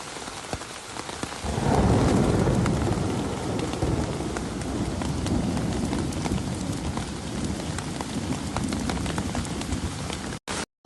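Heavy rain mixed with hail pours down in the Asir and Abha region of Saudi Arabia, a dense, steady roar of drops that swells in after about a second and a half and holds with no voices.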